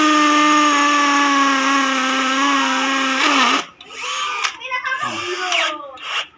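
A Skil cordless hammer drill runs with a steady, loud whine for about three seconds, then stops and restarts in short uneven bursts as it is tested on concrete.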